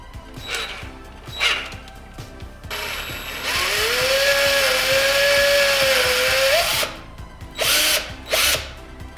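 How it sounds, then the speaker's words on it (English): A power drill whirs steadily for a few seconds as it slowly bores a pilot hole into old wood, with short bursts of drilling before and after. "I used a few drill bits in increasingly larger sizes and took it slow so the old wood wouldn't split"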